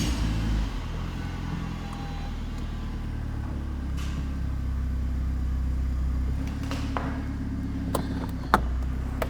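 A 360 bhp Renault Megane RS on solid engine mounts idles nearby with a steady low rumble and rattle, and a few faint clicks and knocks near the end.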